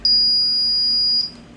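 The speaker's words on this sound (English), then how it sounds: "as it gives a very loud beep otherwise" A ToxiRAE Pro gas detector gives a single loud, steady high-pitched electronic beep on power-on, held for about a second before cutting off.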